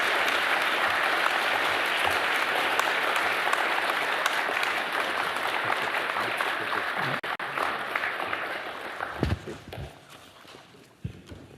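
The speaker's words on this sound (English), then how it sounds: "giving Nobel Prize winner in chemistry, Professor Thomas Lindell, one more round of applause" A tech summit audience applauds a Nobel chemistry laureate with sustained, dense clapping for about nine seconds before it thins out and fades into scattered claps.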